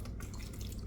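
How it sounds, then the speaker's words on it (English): Chicken broth is poured over stuffed cabbage rolls in a baking dish, a brief close liquid splashing and trickling that runs continuously for under a second. "All I need to do is pour some chicken broth in there."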